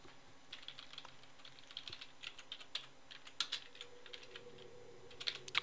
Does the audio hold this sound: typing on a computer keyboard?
yes